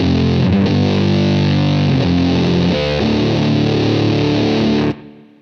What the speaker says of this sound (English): So, as you can tell, a lot of different sounds in the DG Fuzz here.